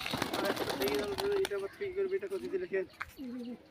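Pet pigeons cooing close by, a sustained low throaty coo repeated in pulses, with someone talking over it.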